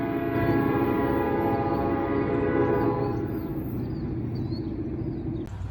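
A heavily loaded grain freight train labors up a grade, its deep engine drone loud and steady, with strong droning tones that fade after about three seconds into a rougher rumble.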